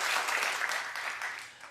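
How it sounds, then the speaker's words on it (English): An audience at a live talk show claps in a burst of applause that starts loud and thins out gradually, with no voices over it. "Clap if you know her."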